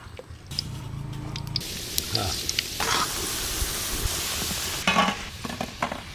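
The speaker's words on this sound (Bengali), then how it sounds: "চলেন এখন ভাইজে নি তেলটা হালকা গরম হয়েছে" Kalo jam sweets made with puffed rice fry in oil in a pan, giving a continuous sizzle broken by clinks and stirring scrapes.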